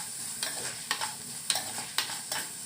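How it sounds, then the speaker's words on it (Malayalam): Chopped onions with salt sauté in hot oil for a lobster gravy, a close, soft sizzle broken by a regular rhythm of spatula scrapes and knocks against the pan, about one every half second, with no voices. "അരിഞ്ഞു വെച്ചിരിക്കുന്ന സവാള ചേർത്ത് കൊടുക്കാം. കുറച്ച് ഉപ്പും കൂടി ചേർത്ത് നമുക്കിത് നല്ലവണ്ണം ഒന്ന് വഴറ്റിയെടുക്കാം."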